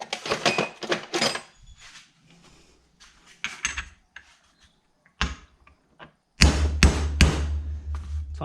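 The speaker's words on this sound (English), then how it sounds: "Time for a hammer." Hammering a bearing into place while restoring a Yamaha RXS 115 motorcycle, a series of loud, sharp metallic strikes in irregular bursts, close to the microphone, with pauses between groups of blows.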